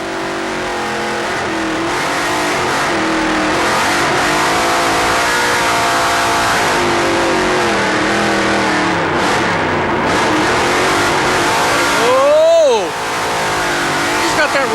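An open-wheel race car at the 2001 Pikes Peak hill climb roars at full throttle close up for nearly fifteen seconds, its engine note rising and falling through corners with a brief tyre squeal near the end.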